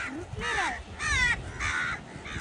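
A crow caws three or four times in quick succession, loud and close, with harsh repeated calls and faint background noise between them.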